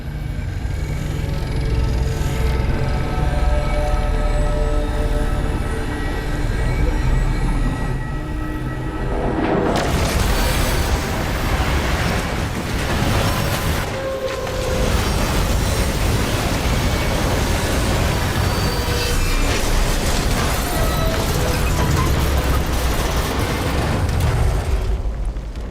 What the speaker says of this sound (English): I've seen primitive trains like this in old ruins.